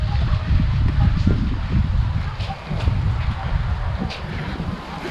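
Strong wind roars and buffets the microphone continuously, a dense rumbling rush that barely lets up for the whole stretch.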